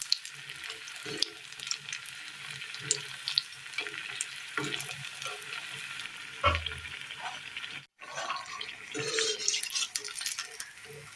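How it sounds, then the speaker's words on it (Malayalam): Kerala-style cutlets frying in oil give a soft, continuous sizzle with occasional stirring clinks and scrapes, fairly quiet and close, with a brief cutoff partway through. "ഇതുപോലെ മറ്റെല്ലാം കൂടി ഒന്ന് വറുത്ത് കോരാം"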